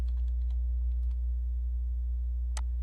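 Keys tapping on a computer keyboard while lettering is typed in Photoshop, a few soft clicks early on and a sharper burst near the end, over a steady low hum.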